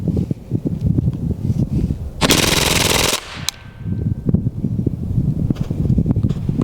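A Hatsan Blitz air rifle fires exploding pellets on full auto into a ballistic gel head, a loud, dense rattling burst lasting about a second with a sharp report just after, over steady outdoor background noise.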